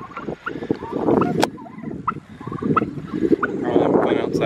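A flock of turkeys gobbles outdoors in repeated rattling bursts, some close and loud, others farther off, over a busy background of low rumble and occasional voices.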